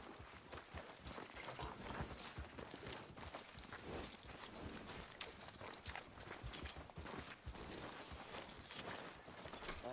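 Steady clip-clopping horse hooves at a walking pace in the video game Red Dead Redemption 2, close and continuous, with a busy rustling background.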